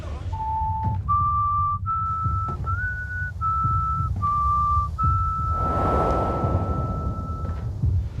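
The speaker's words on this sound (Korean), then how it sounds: "다시 들려오는 휘파람 소리." A person whistles a slow tune of clear, sustained notes, each held about a second, the last drawn out long over a low, steady background rumble.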